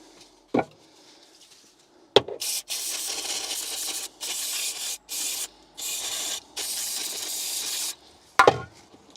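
Bursts of rubbing and spray-like hissing while a Mini Cooper fuel pipe is wiped clean before reinstalling, in short repeated strokes with a few sharp clicks between, close and fairly quiet.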